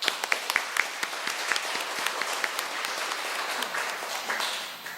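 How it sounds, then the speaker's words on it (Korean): A congregation at a Sunday Mass claps in welcome, individual sharp claps standing out at first before merging into a steady, moderately distant round of applause that tapers at the close. "큰 박수, 환영의 박수"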